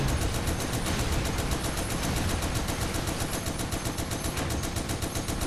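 Rapid sustained gunfire in the Toy Soldiers: War Chest video game, a dense, loud rattle of fast repeating shots that never lets up, with no voices.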